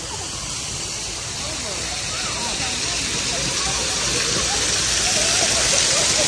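Water pours steadily from an artificial waterfall in a city park in Davao City, a continuous rushing hiss that swells slightly louder over time, with no speech.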